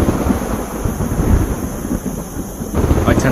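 A thunderclap rolls through a storm, a deep, loud rumble filling the low end for several seconds with a steady wash of rain noise and a brief swell again near the end.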